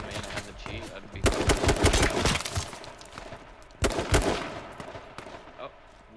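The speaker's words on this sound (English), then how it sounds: "Oh, he's gonna shoot at us." Bursts of gunfire from the online battle-royale video game H1Z1, with loud shot volleys around the middle and again near the end, fast rapid-fire stretches between quieter moments, and a voice talking over the action.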